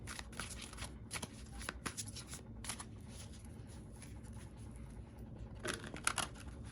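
Tarot cards being shuffled, a soft papery riffling and patter that runs steadily throughout, close and quiet.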